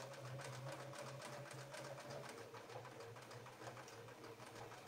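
An embroidery sewing machine stitches the interior of a daisy basket design, a fast, even mechanical chatter with a steady hum, close and continuous.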